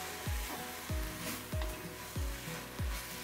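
Ridge gourd thecha fries loudly in a pan while being stirred, a steady sizzle broken by five regular low thumps of the spatula about every 0.6 seconds, close and with no voices.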